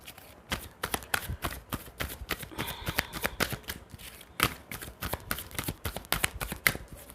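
Tarot cards are shuffled in quick, crisp riffles and flicks, repeated steadily and heard up close.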